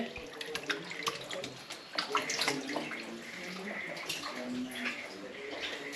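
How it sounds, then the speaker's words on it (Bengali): Water from a kitchen tap runs steadily into a sink as meat is washed, with splashing and clatter close by and a voice talking faintly in the background. "এখানে কল এই যে মাংস ধোয়া হচ্ছে"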